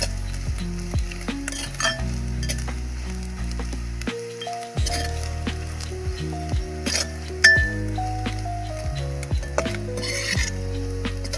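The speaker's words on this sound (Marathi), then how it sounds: "छान असा तुपामध्ये परतून घ्यायचा आहे." Grated coconut roasts in ghee in a pan over a wood-fired stove, sizzling steadily while a utensil stirs and clinks against the metal, with no talking.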